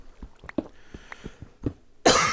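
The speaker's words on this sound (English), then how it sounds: "I'm so sorry for all the coughing" A person coughs repeatedly in a string of short, close, dry bursts, some sharper than others, ending in a louder, harsher rasp.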